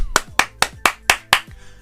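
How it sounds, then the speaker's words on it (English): Six sharp hand claps ring out in a steady, evenly spaced rhythm, close and loud, each with a brief decay, in a quiet room. "I definitely think that just needs a couple of claps"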